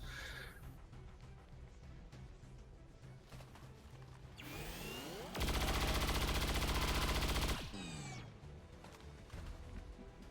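Gunfire in the XCOM 2 War of the Chosen strategy game: a sustained loud burst of rapid automatic shots fills several seconds midway, framed by sweeping whooshes and game effects, with no talking.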